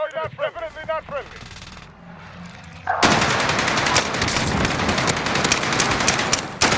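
Sustained machine gun fire in a video game set in the Pacific bursts in loudly and continuously after a stretch of quieter game sounds and a brief voice, dense and close.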